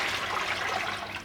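Water pouring from measuring cups into a plastic soaking tub for yarn, a steady close splashing gush lasting about a second before tapering off.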